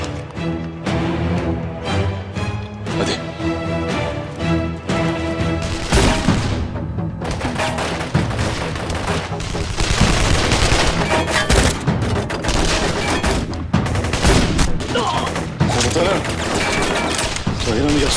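Heavy gunfire fills a battle scene in the Turkish TV drama Söz: dense, loud automatic bursts and booms roll on continuously with little pause, and faint voices are mixed in underneath.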